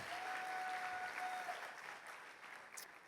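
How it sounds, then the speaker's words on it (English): Applause from a conference audience at a political summit, a dense, sustained crowd clapping that holds strong for a while and then gradually thins and fades toward the end. "please give a round of applause for all the wonderful local servants that we have"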